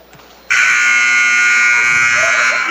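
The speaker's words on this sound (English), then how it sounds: "that's your final buzzer" A loud, sustained electronic buzzer sounds at the end of a girls' high school basketball game, cutting in abruptly after a short lull in gym noise and holding steady, harsh and close, for over two seconds.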